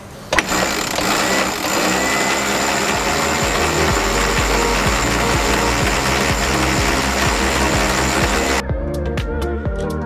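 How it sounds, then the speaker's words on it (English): Electric winch hoisting the sail aboard a 2020 Lagoon 42 catamaran, a steady loud motor whine with rhythmic mechanical ticking that runs without a break for about eight seconds, then cuts off abruptly, leaving quieter clicks. "Be careful not to run the electric winch constantly as you will burn down the batteries much faster."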